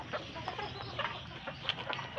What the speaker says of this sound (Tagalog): Yan, daming manok oh.